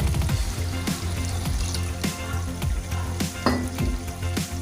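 Yogurt and gram flour batter for kadhi being whisked with about half a jug of water, a steady run of wet stirring and swishing strokes with rhythmic sloshes, close and fairly loud, with no talking.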